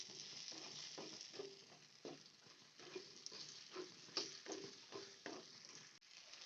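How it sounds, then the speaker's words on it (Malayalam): Small onions frying in a pan for Kerala sambar, heard as a soft steady sizzle with repeated scraping stirs at a fairly regular pace, close and quiet. "ഈ ഉള്ളി ഒന്ന് ജസ്റ്റ് ഒന്ന് ഫ്രൈ ആയി വരണേ."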